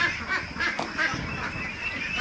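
Ducks quack repeatedly at a duck farm during egg collection, a steady overlapping chorus of nasal calls close by, with no talking.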